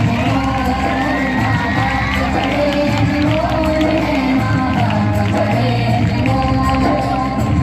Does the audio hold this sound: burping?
no